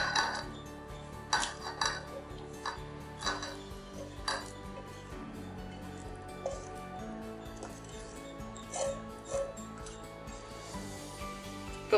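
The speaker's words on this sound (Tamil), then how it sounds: "இதை எடுத்து அப்படியே முட்டையோட மிக்ஸ் பண்ணிக்கலாம்" Fried pizza-omelette filling is stirred into eggs in a bowl, giving sparse metallic clinks and taps of a spoon against the dish, with quiet talking underneath.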